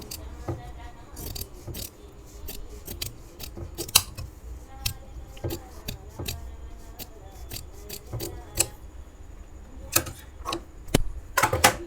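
Scissors snipping the margin off blouse fabric, a series of sharp, close, irregular cuts with soft fabric rustle between them.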